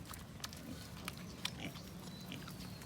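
Pigs on a farm, mother sows at a new feeding trough, with faint grunts and feeding noises scattered over a steady low background hum.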